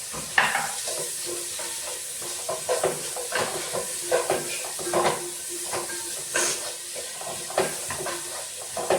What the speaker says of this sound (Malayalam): ഇനി കുറച്ച് നമുക്ക് മഷ്റൂം നന്നാക്കി വെച്ചിട്ടുണ്ട് അതിൻ്റെ ചേർക്കാം